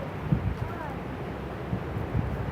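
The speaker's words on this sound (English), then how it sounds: "Oh my god, it is fucking windy." Strong gusts during a windstorm buffet the microphone in a steady low roar with rumbling thumps, a few brief bursts standing out over the continuous blustery noise.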